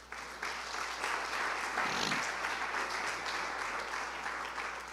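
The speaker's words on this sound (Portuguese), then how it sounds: "Aplauda Jesus." A church congregation at an Easter service breaks into dense, sustained applause, a continuous wash of many hands clapping at moderate distance, holding steady throughout.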